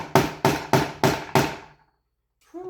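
Sharp metal-on-metal hammering while fitting mainspring pins into an 1858 Remington New Model Army revolver with needle-nose pliers: five loud, evenly spaced strikes, each ringing briefly, then a pause and a faint clink.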